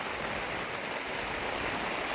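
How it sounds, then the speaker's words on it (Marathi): Heavy monsoon rain pours over a waterlogged sugarcane field in Konkan, a dense, even roar of falling water with no gaps or voices. "खूप दिवसानंतर पाऊस आलाय आणि एकदम मुसळधार पाऊस पडतोय."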